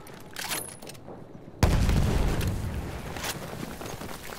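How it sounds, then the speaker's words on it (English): A grenade blast in Battlefield 1 lands suddenly and loudly after a quieter stretch of distant shots and footsteps, leaving a long rumbling roar that slowly fades. "Start throwing grenades."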